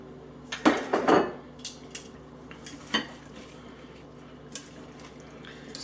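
Greek salad with cucumber, onion and dressing being tossed in a bowl, with a few sharp clinks and scrapes of utensils against the dish followed by softer intermittent taps in a quiet room.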